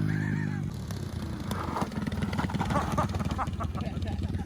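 Drag race vehicles at a swap meet pass close by, their engines throbbing loudly and rapidly and growing louder as they approach, with people talking and shouting over the noise.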